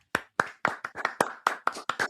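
Studio applause effect: about ten sharp, evenly spaced clapping bursts, close and fairly loud, with no voices over them.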